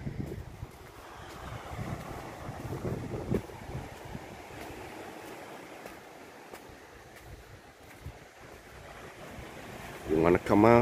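Wind rushing and waves breaking at Sand Beach in Acadia National Park, a steady broad wash of surf and gusts buffeting the microphone, with a louder burst near the end.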